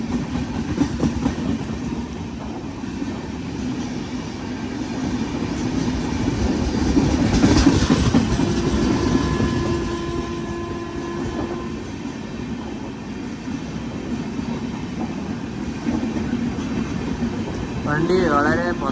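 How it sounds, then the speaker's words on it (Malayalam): Slow-moving AC Express train on the single-track Konkan Railway, a steady low rumble of wheels and carriage noise that swells midway, with a faint brake or wheel tone, heard from inside the coach. "വണ്ടി വളരെ പതുക്കെയാ പോകുന്നു."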